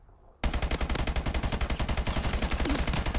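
Video game gun firing continuously after a quiet start, a fast, steady, close and loud automatic burst lasting a few seconds with no talking.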